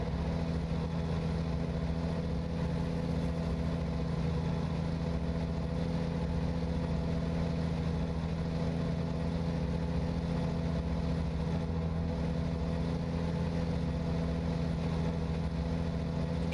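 A Volvo truck engine idles in American Truck Simulator, a steady low rumbling drone that holds unchanged and continuous throughout, close with no talk.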